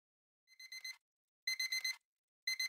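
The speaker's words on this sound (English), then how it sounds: "After hitting snooze on my alarm about 10 times, I would finally start my day." Electronic alarm clock ringing in three bursts of rapid beeping, each burst a quick run of four shrill pulses separated by short silences, clear and fairly close.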